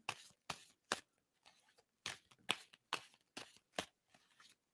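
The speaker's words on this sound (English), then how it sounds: "And I'm going to stop shuffling." Tarot cards are shuffled in a run of crisp riffling bursts, about ten quick flicks with short pauses between, close and quiet with no talking.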